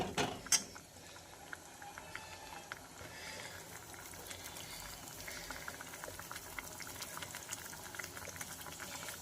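Vegetable kurma curry with lots of fresh coriander bubbling gently in a pot over a low gas flame, a steady close simmer with soft pops and liquid burbling throughout, no talking.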